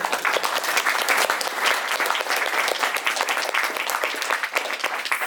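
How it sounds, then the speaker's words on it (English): Warm, dense applause from a large audience at a poetry festival marking a 40th anniversary, loud and sustained, many hands clapping together without a break. "I think we should all give her an applause"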